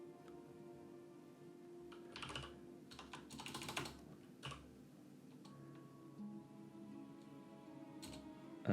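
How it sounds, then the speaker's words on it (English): Soft, irregular clicks of typing on a computer keyboard, with bursts of quick keystrokes and short pauses, heard quietly and close up in a still room. "I'm just typing a thing into chat for people what might be taking notes."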